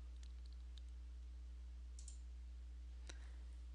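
Several faint, sharp computer mouse clicks come spaced apart over a quiet background hum.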